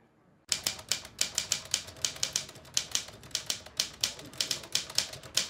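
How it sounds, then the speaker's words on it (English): Keys strike sharply on an old Underwood 5 manual typewriter with an original carriage return, starting after a brief hush and then clacking in quick, uneven bursts close by. "I found this typewriter next to the courtyard dumpster, an old Underwood 5 with original carriage return."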